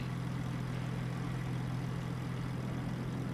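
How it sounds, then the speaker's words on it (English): A Peterbilt truck engine idles in a farming simulator game, a steady, loud low drone with a constant hum that runs unbroken from start to finish with no other sounds. "Guess it's the Peterbilt over here that's running."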